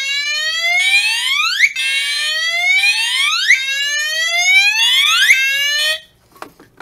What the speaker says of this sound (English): silence from the panel and air out the smoke detector head